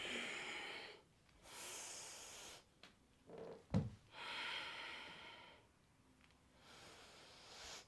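Breath during a yoga class: several long, airy inhales and exhales through nose and mouth, close and soft, in a slow rhythm with a brief snort-like puff midway.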